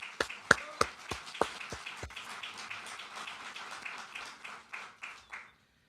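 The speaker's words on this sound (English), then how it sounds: "So give Lunar Outpost a round of applause." Applause for Lunar Outpost at a NASA Moon Base update stream, a few sharp close claps that give way to scattered, softer clapping from a small group before stopping.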